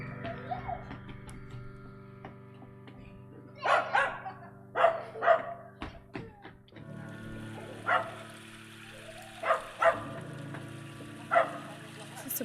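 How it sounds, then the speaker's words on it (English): A small dachshund barks in a few short, sharp bursts from a balcony one floor down, sounding somewhat distant beneath a steady indoor hum, with birdsong faintly mixed in. "The little wiener dog is downstairs."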